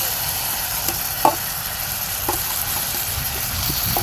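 Fried small dry fish being stirred by hand into freshly ground gongura (sorrel leaf) chutney, giving soft, moist squelching and a few sharper taps over a steady background hiss, with no talking.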